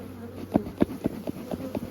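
Honeybees in an opened beehive buzz softly, with a steady low hum pulsing at a fairly even rhythm close by.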